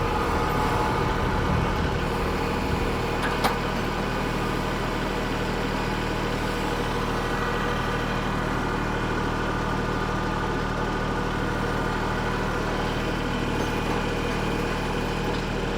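A tractor engine runs steadily and loud up close throughout, a constant low idle-like drone while lifting straps are rigged to the loader to raise a one-ton Chevy dually truck bed.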